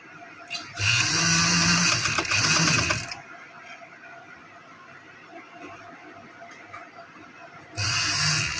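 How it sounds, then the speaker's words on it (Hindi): A sewing machine stitches over lace in two loud, steady whirring runs, one lasting about two seconds and another starting near the end, with a quieter mechanical hum between them. "ये सिलाई के ऊपर ऊपर लगानी है, पेपर पट्टी के ऊपर सिलाई ना लगे।"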